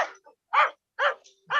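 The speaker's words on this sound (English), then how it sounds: "the dogs they love barking in the morning." Dogs barking in the morning: three loud, clear barks at a steady pace, separated by short silences, close by with no talk over them.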